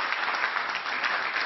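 A studio audience applauds on an Italian political talk show, a dense, steady wash of many hands clapping at once that holds evenly throughout without any break or rise.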